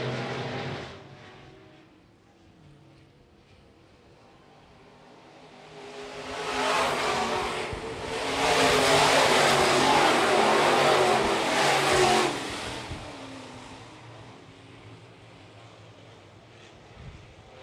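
Sport modified race cars roar around the dirt oval at Phillips County Raceway, with engine noise swelling as the pack passes close by, holding loud for several seconds, then fading into the distance.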